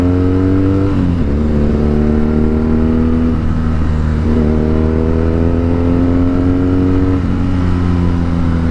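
A BMW R nineT 1200cc motorcycle engine revs hard under throttle, loud and close, its deep harmonic drone climbing in pitch, dipping briefly, then pulling up again in repeated surges.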